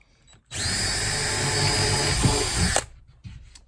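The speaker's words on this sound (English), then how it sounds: "So I'm just using, I don't know, 1/8 inch drill bit here." A small power drill with a 1/8-inch bit whines steadily at close range for about two seconds while drilling through a plywood van sub-floor, then cuts off, followed by faint handling noises.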